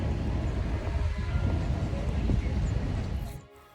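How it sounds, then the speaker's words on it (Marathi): A train rumbles past nearby with a steady rhythmic clatter of wheels on rails, fading quickly at the end. "आपल्या रूम मधून ट्रेन दिसते"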